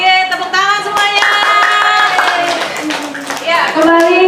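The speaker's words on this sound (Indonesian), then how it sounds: "Tepuk tangan semuanya." Children clap their hands together in a classroom, a steady patter of claps mixed with loud chanting or sung voices for the whole stretch.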